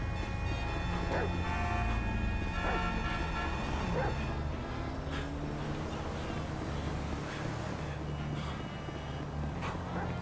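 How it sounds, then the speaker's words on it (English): A dog in the video game GTA 5 barks, yips and whimpers over a steady game soundscape, with voices talking at times. "It's a guy chasing a dog!"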